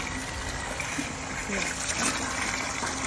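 Liquid pouring and trickling steadily from an ONSEN 12V DC pump run from a battery, a constant close splashing flow at moderate level with no clear pauses.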